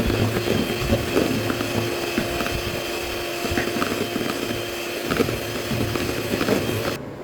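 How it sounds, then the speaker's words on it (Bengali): An electric blender mixes cake batter with oil for a fruit pound cake, grinding with a loud, continuous mechanical whir and rattle for several seconds, no voices. "আবার এখন ব্লেন্ড করে নিচ্ছি"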